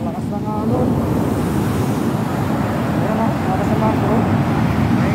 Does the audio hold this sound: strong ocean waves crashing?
yes